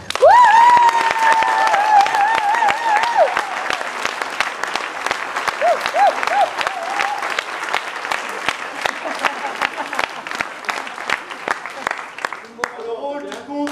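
A theatre audience applauds for a stage comedy's cast and crew, loud sustained clapping with cheers and a few sharp claps standing out, while an announcer's voice rises above it near the start.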